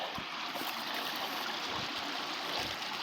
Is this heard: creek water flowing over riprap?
yes